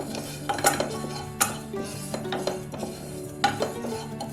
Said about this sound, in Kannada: ಇದನ್ನು ನಾವು ಲೋ ಫ್ಲೇಮಲ್ಲಿ ಇಟ್ಕೊಂಡು ಇದು ಚಟಪಟ ಅನ್ನೋವರೆಗೂ ನಾವು ಫ್ರೈ ಮಾಡ್ಕೋಬೇಕು